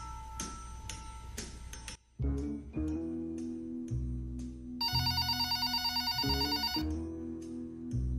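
A telephone rings with a bright electronic ringtone in a French comedy scene about a private-detective office, repeated melodic tones over a musical backing, loud and close with no talk.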